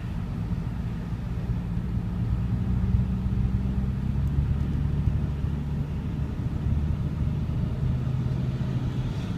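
Steady low road rumble from a moving truck driving westward across the new span of the San Francisco Bay Bridge, a continuous engine and tire drone heard from inside, with no voices.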